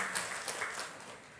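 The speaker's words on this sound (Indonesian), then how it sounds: "Yuk kita sambut dengan tepuk tangan." Congregation applause during a Sunday church service, a soft, distant patter of clapping hands that fades slightly toward the end, heard without talk.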